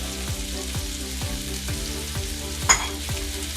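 Onions, mushrooms and garlic sizzle steadily in a pan, with a spatula scraping and stirring in a regular rhythm about every half second, plus one brighter clink near the end; close and continuous, no talking.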